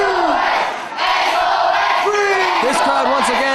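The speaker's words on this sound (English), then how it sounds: "This crowd once again chanting for SOS." A wrestling crowd in an arena chants loudly for SOS, a dense roar of massed voices with rising rhythmic shouts, under a brief dip before the chant swells again.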